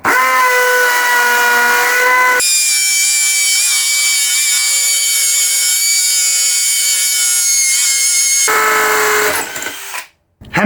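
Dewalt 18V hammer drill boring into masonry with a 10mm bit, a loud, close, high whining hammer action running steadily for about six seconds, then winding down.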